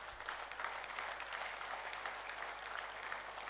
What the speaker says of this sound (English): I would request a huge round of applause for the entire evening